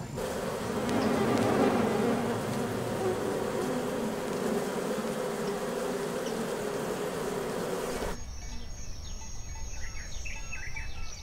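Bees buzzing at a Brazilian apiary, a dense continuous hum of many insects close by that cuts off abruptly to quieter outdoor ambience with faint bird calls.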